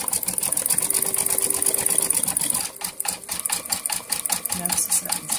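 A Brother XV8500D embroidery machine stitching zigzag and then satin stitch on an appliqué, a rapid, even mechanical needle chatter up close that changes to a slightly choppier pulse halfway through.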